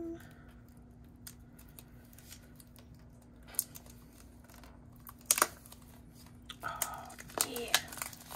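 Plastic wrap torn and crinkled off a limited edition Plumchester sketchbook, several short bursts of ripping and rustling close by, with a brief spoken remark.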